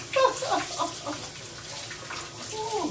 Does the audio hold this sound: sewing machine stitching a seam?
no